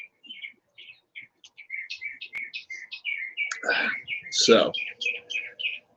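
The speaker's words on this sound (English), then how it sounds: "I got my birds here. My birds, they're in full force." Several backyard birds chirp and tweet outside a house in quick, repeated high calls that run through the whole stretch, with a brief burst of louder, lower noise near the middle and a voice speaking briefly.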